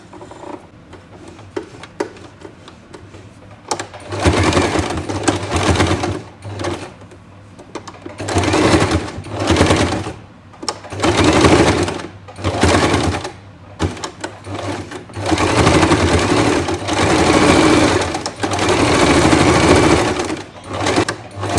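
A sewing machine stitching the waist of a pair of pants runs in several bursts of rapid mechanical whirring, loud and close, separated by short quiet pauses.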